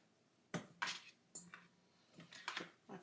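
A knife chops food on a cutting board in a home kitchen: about seven sharp, irregular clacks over three seconds, close and fairly quiet, with no voices.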